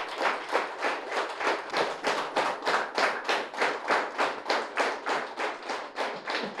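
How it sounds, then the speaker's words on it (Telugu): Audience clapping loudly in unison at a meditation gathering at a pyramid centre, a steady rhythmic beat of about three claps per second throughout. "పత్రిజీ ధ్యాన మహాయాగానికి గట్టిగా చప్పట్లు కొడతాం."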